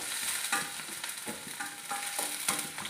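Crushed ginger and garlic fry in a pan with a steady soft sizzle, broken by a few brief stirring scrapes, close and fairly quiet with no voices.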